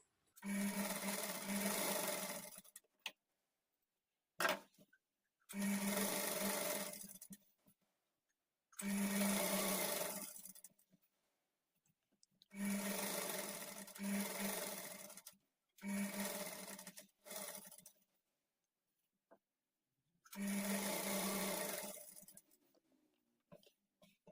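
A sewing machine stitches a fall onto a saree in several bursts of steady whirring, each lasting a few seconds, with brief pauses between runs; close and clear with no talking.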